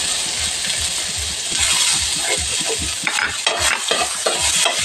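Onion, ginger and tomato sizzle loudly in a hot pan, with steady rhythmic stirring scrapes running throughout and a dense bright frying hiss underneath, close and continuous.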